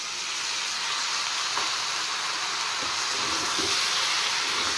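Onion paste and dried chili hit hot oil while cooking katla fish, giving a loud, steady, close sizzle and hiss that holds throughout, with no voices.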